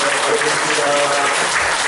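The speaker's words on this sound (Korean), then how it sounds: "박수로 환영합니다" A church congregation at a Sunday worship service claps in welcome for a newly registered member, a loud, dense burst of applause with a voice faintly heard beneath it.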